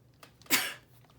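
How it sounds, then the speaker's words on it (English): A single short sneeze from a person working on book covers, a quick intake followed by a sharp, breathy burst close to the microphone, fading quickly into quiet. "Yeah, excuse me, I'm gonna sneeze."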